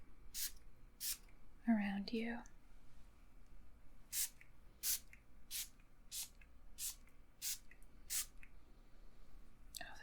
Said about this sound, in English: I'm just going to start spraying this